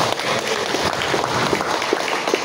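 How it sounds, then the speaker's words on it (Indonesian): Audience applause at a Sundanese community anniversary gathering in Bengkayang, West Kalimantan, heard as a steady spread of clapping throughout with some crowd noise. "Tepuk tangan Bapak Ibu, luar biasa."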